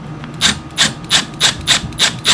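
Power drill driving a screw into a plastic wall anchor, giving seven evenly spaced bursts of grinding, rasping noise about every third of a second, close and loud with no talk.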